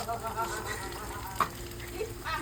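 Eggs frying in a pan with onion, chili and tomato, a soft, steady sizzle with occasional scrapes and taps of stirring and a few faint voices in the background.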